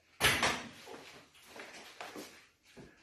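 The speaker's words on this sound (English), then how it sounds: "shut the oven door there." An oven door is shut in a home kitchen with one sharp, close thud and rattle, followed by a few fainter knocks and handling noises.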